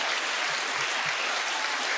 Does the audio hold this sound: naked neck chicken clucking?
no